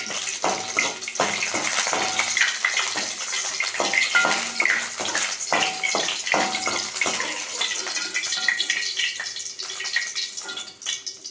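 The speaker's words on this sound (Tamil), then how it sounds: "அதுக்கு எண்ணெய் ஊற்றி வரமிளகா போட்டிருக்கேன்" Dried red chilies fry in hot oil for a mint chutney, giving a loud, steady sizzle full of crackling pops that fades slightly toward the end. No one speaks.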